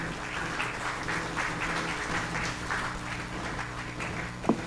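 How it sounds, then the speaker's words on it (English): Applause fills an awards ceremony hall for real estate honorees, a continuous, even patter of many hands clapping at a moderate distance, steady in level, with one sharper sound near the end. "Ladies and gentlemen, please give Dr. Batra a bigger round of applause, please."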